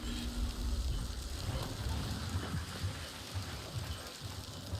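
Fire raining down in a video game, a steady crackling sizzle like fat frying or heavy rain, fairly quiet and continuous with a low rumbling underneath.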